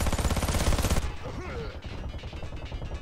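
Rapid bursts of automatic gunfire in the Warface shooter, a dense rattling stream that loosens into scattered shots.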